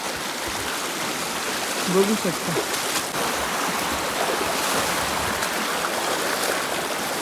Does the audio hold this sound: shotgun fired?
no